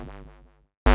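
Synth stab bass with two oscillators set slightly out of phase, a short phasing swell that fades over about half a second, then a sudden loud burst cuts in at the end.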